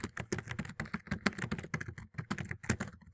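Rapid keystrokes clatter on a computer keyboard in quick, uneven bursts with a brief pause midway, close and fairly quiet, with no voices.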